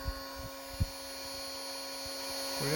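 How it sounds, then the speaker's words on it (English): A CNC router spindle runs idle while cutting acrylic templates for cutting board handles, giving a steady, loud electric whine and hum with a few low thumps. A pitch sweep near the end suggests another machine starting up. "So the spindle is up and running. You can hear how loud it is."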